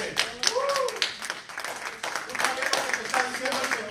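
Congregation clapping hands during an evening church service, sharp rhythmic claps scattered through the moment while people speak over them.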